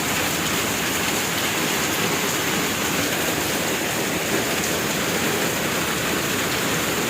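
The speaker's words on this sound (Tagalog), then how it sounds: "Lakas ng ulan." Heavy rain pours steadily, a dense, loud hiss of water drumming on surfaces with no pauses and no voices.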